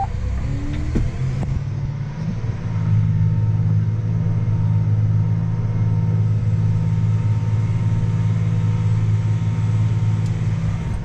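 A John Deere 8235R tractor pulling an Earthmaster 3000 VT tillage tool drives forward with a steady, loud low engine drone and rumble, heard from inside the cab at constant load with no talking.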